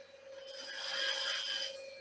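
A wood lathe parting tool cutting into a spinning woodturning piece, a steady close scraping rasp that swells and eases over two seconds above a low motor hum, with no talking.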